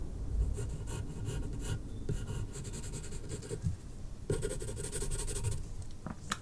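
A pencil shades a portrait drawing on paper, scratching in steady, continuous strokes close up. The rhythm shifts slightly as the strokes change direction, and no one speaks.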